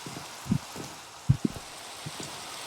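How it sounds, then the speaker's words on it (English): Rain falling in the video game Minecraft, a steady soft hiss of rainfall with a few low thudding drops standing out, continuous and even without voices. "Do I really gotta deal with the rain all day?"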